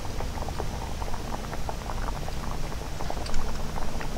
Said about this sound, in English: The pot is boiling.